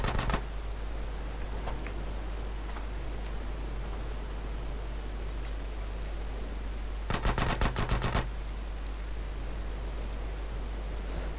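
Automatic gunfire in GTA San Andreas Definitive Edition, fired while flying: a short rapid burst at the start, then a longer rattling machine-gun burst after a stretch of steady rushing noise from the flight.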